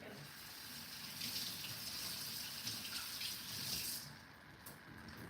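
Potatoes rinsed under a running kitchen tap, a steady close splash of water hissing into the sink that cuts off near the end.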